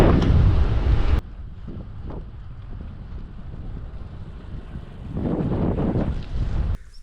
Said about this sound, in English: do catch a lot of wind, and wind is not in my favor anymore